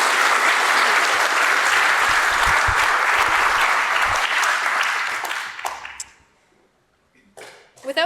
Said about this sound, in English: let's give a big round of applause for our sponsors